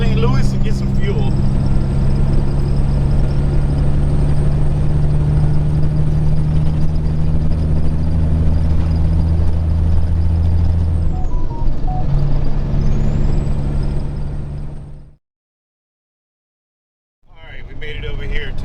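Flatbed semi truck cruising on the highway with a squeaky cab, steady loud low engine and road drone throughout, easing off near the end before a brief silence and the rumble returning.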